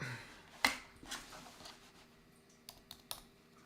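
A backup computer keyboard taps out a few sparse, soft keystrokes in a quiet room: one sharper click early, then scattered light taps, with no one speaking.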